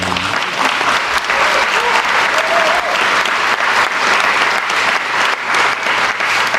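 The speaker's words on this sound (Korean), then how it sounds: "이럴 때 박수도 한 번 하는 거예요." A large audience breaks into sustained applause in a formal hall during a presidential address, dense clapping that holds steady and loud from start to finish, with a faint murmur of voices beneath.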